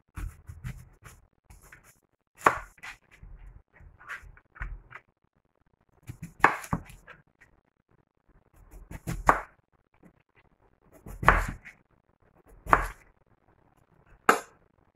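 Knife chopping peeled beetroot into cubes on a board, sharp irregular cuts coming in short clustered bursts separated by quiet pauses, no talking.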